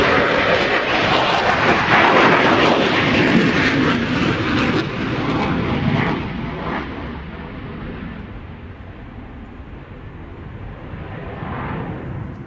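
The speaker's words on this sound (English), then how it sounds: "Pepper, it's not a bird, it's a plane" An airplane flying overhead, a loud broadband roar that stays strong for several seconds, then slowly fades and thins as it moves away.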